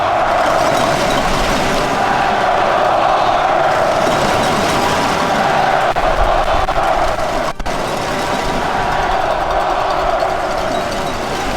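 A fired-up crowd of 31,000 at IG Field roars during a Winnipeg Blue Bombers football game, a loud, continuous wall of cheering and chanting with a brief dip partway through.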